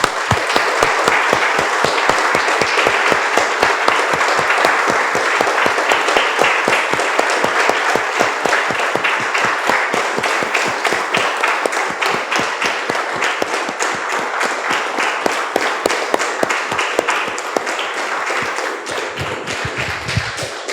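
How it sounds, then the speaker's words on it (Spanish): A church congregation claps in a strong, steady unison rhythm, loud and sustained for about twenty seconds, with a dense bed of overlapping hand claps and no talking over it before it thins out near the end. "Un aplauso, hermano."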